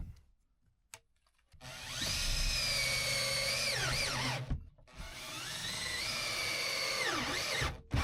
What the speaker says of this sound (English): allowing me to properly drill into the metal behind it